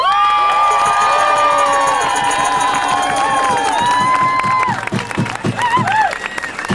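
A loud, dense crowd at an Inauguration Day protest cheers, whoops and applauds continuously, with shouting voices layered over the roar before it breaks into more scattered clapping and calls.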